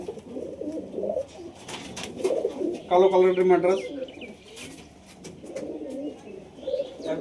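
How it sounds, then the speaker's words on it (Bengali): Madras pigeons coo in a short burst of repeated soft calls, near and clear, amid surrounding chatter and someone talking. "2-1 জোড়া ম্যাড্রাস পায়রা আছে"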